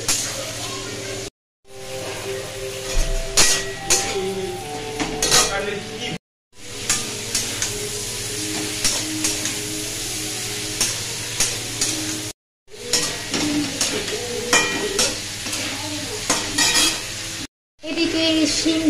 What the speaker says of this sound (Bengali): একদিকে বেগুন ভাজছি, একদিকে ফুলকপি ভাজছি